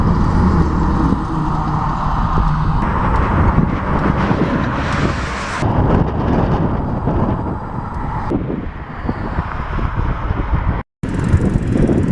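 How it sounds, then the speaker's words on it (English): Strong wind roars across the microphone during a bicycle tour in Wisconsin, a loud, continuous buffeting rush with abrupt shifts in strength and one brief dropout near the end. "the wind's blowing pretty hard"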